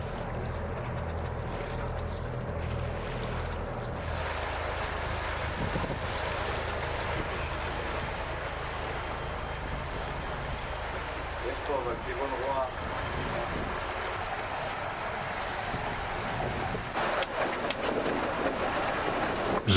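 A sailboat heading into open sea past Formentera, off Ibiza, pushes through strong wind and choppy waves, with a constant rushing wind roar on the microphone and washing water throughout, fairly faint and with no clear talk.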